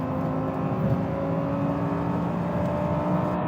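An Audi R8 engine accelerating from inside the car: a loud, steady, rising engine drone with a harmonic whine and constant road rumble, with no pauses.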